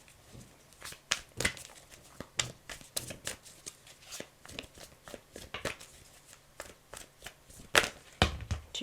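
Tarot cards are shuffled by hand in a run of crisp, riffling bursts that come in quick clusters, a few louder slaps near the end, close and with no talk.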